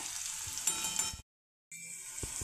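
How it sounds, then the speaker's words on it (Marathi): Green chilies frying in a pan with garlic and asafoetida, a steady broad sizzle that cuts out briefly midway, with a few soft stirring knocks. "मिरची छान अशी डाग पडेपर्यंत परतवून घेतली"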